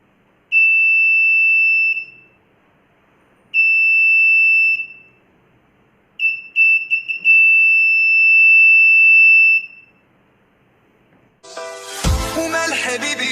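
Buzzer of an Arduino flame-sensor fire detection system beeping in three loud, sustained tones of about a second or more each, separated by short silences, the last one stuttering briefly before holding steady, then music cuts in.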